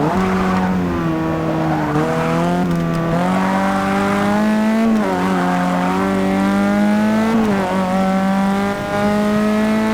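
Race cars in the Forza Motorsport 6 video game roar continuously, the engine pitch climbing through gears and dipping at shifts, loud and close with a faint tire squeal.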